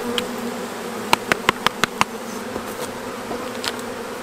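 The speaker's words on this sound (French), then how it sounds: "Alors ici, on a encore des abeilles" Honey bees buzz around a wild hive in a hollow tree trunk, a steady close drone with a quick run of sharp clicks or taps near the middle; no one speaks.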